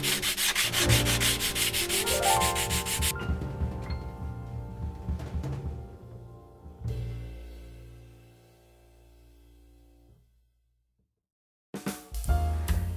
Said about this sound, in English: we can use a sanding block to finalize the shape.